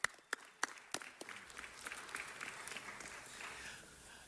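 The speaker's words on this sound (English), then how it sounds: "Just give them a round of applause." An audience at a gathering marking the NFL's return to the Los Angeles region applauding: a few sharp, separate claps at first, then building into a fuller, sustained round of applause heard from a distance at low volume.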